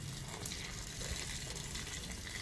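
Water pours steadily onto eggplant plants in a vegetable patch, drawn from pumped fishpond water, a faint, continuous gushing splash that holds evenly throughout without a break.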